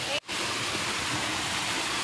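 Ranajilleda waterfall in Araku flowing in a steady, full broadband rush of water, close and continuous, with a brief dip near the start.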